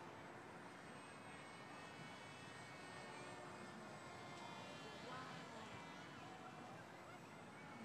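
A radio-controlled Lazertoyz Fenix plane flown at night gives off a continuous high motor whine and buzzing drone at moderate distance, steady throughout, with people talking faintly underneath.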